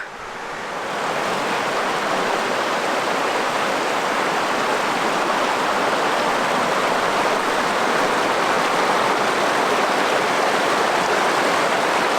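A river in Norway rushes past in a loud, dense, continuous roar that swells in during the first second and then holds steady, with no voices heard.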